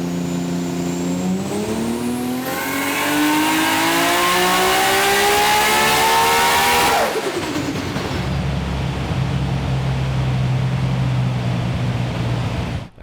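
Nissan GT-R engine fitted with a Garrett G35-1050 single turbo revving hard on a dyno, pitch climbing steadily to a loud high-rpm scream, then cutting off and dropping back to a lower drone.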